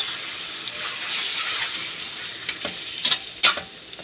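Chicken for chicken afritada frying in a pan gives a steady, hissing sizzle, with a few louder crackles and spatters toward the end.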